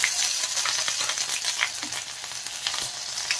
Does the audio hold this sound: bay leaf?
yes